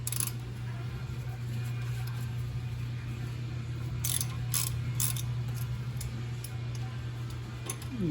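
Ratchet wrench working a 10 mm bolt on a 2006 Honda Pilot during front strut replacement, soft clicking bursts over a steady low hum, with a few sharper ticks in the middle.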